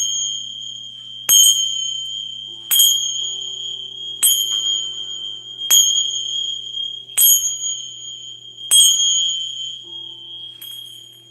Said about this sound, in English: turn your volume down just for a minute while I use the bells, okay? Or chimes